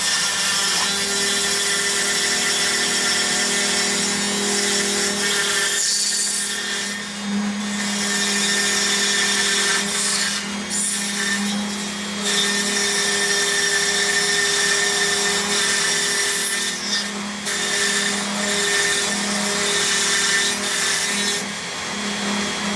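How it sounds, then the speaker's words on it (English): A Dremel with a router attachment cuts letters into a Halloween tombstone, a loud, continuous high-pitched whine and grinding buzz that runs throughout, dipping briefly several times as the bit moves along the traced lines. "it's as simple as tracing your lines with the Dremel to cut out your letters"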